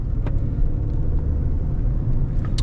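A 2000 Ford Ranger extended-cab 4x4 Sport truck drives along with a steady, loud low rumble of engine and road noise, recorded from inside the cab with no talking.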